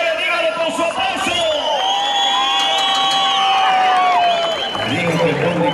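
At a rural jaripeo rodeo in Morelos, a loud crowd cheers, whoops and applauds to pick a winning rider, sustained shouting and whistles with clapping filling the whole stretch.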